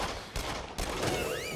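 Gunfire in the VR shooter game Until Dawn: Rush of Blood, with two or three sharp bursts of shots over noisy game sound and a whooshing effect near the end.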